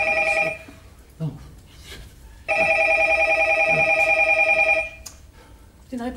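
A telephone bell rings out loud and close in two long bursts with a pause between them, and a voice speaks briefly in the gaps.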